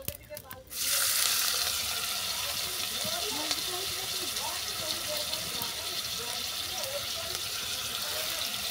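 Chopped banana stem (thor) dropped into hot oil with tempering spices, a sudden loud sizzle after a brief clatter, settling into continuous frying with crackles.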